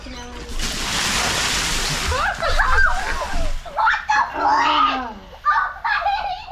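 Someone lowers into a home ice bath chilled with a couple of trays of ice, stirring up a steady rush of splashing and sloshing water, followed by short breathy vocal exclamations over the settling water.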